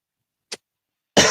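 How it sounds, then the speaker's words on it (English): A single short cough straight into a microphone, loud and close after near-silence, followed by the start of a loud burst of speech. "I coughed into the mic like that"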